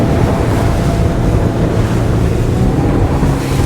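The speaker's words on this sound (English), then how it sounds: "So we're just gonna turn across the waves now that we're offshore enough." A Lomac Adrenalina 7 powerboat crosses offshore waves, loud and close, with continuous rushing water, hull slap and heavy wind buffeting the microphone, the engine roar blended into the wash.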